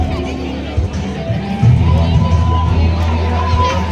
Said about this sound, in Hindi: तो सभी खाने लग गए हैं खाना, और लंबी लंबी यहाँ पर भीड़ लगी है।